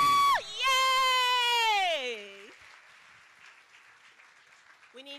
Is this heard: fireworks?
no